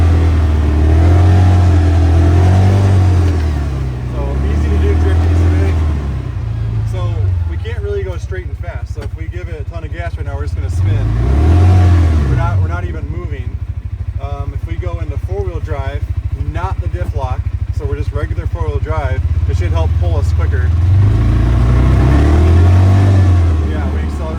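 A CFMoto UForce 600 UTV in two-wheel drive, high range and normal mode, moves over slippery ground, its mid-pitched engine swelling and revving in several surges beneath continuous talking.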